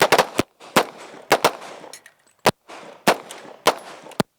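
Handgun shots ring out during tactical training on a range, sharp loud cracks in quick pairs and singles spread across the stretch, each snapping off into brief echo.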